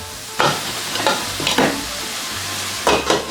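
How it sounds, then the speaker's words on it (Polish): Steady sizzling of chanterelle mushrooms frying in a pan, with a few scraping stirs of a utensil breaking through, close by. "Teraz wrzucamy grzybki i będziemy smażyć kilka minut"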